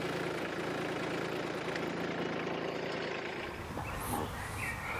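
Kubota B2261 compact tractor engine running steadily and loud at close range while the front loader is raised, a continuous low diesel rumble that eases slightly near the end.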